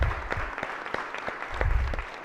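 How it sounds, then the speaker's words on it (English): Brief applause from people gathered on a state senate floor, a short burst of scattered hand claps at moderate distance, fairly faint and uneven, with no speech over it. "So give him a round of applause."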